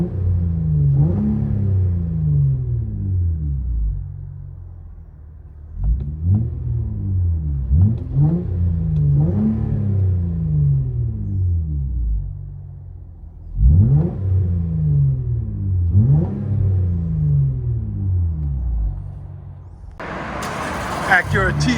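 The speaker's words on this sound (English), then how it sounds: "Acura TL with Evil Energy Resonator, muffler delete, mid delete." Heard from inside the cabin, a 2013 Acura TL with a 3.5L V6 has an Evil Energy resonator and its muffler and mid pipe deleted. The exhaust revs up repeatedly with loud, rising engine pulls and throaty rumble between quieter lulls.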